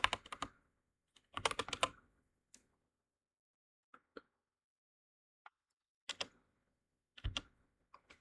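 Keys clack on a computer keyboard in slow, irregular bursts: a few quick clusters of taps separated by pauses and scattered single key presses, close and fairly crisp in a quiet room.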